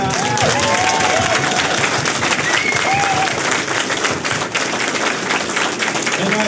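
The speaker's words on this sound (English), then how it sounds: "let's give her a round of applause" An audience at a campaign office opening claps in a steady, dense round of applause, loud and close, with a few faint voices mixed in.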